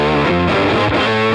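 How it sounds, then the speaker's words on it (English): A distorted electric guitar riff with an octaver pedal adding a lower octave for heavier weight, played as continuous, loud, thick sustained notes with a few changes in pitch. "And if I add the octaver, it just adds so much weight to it."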